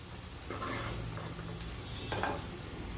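Chopped onions deep frying in hot oil in a pan for egg biryani, a steady dense sizzle with faint stirring scrapes, close and alone.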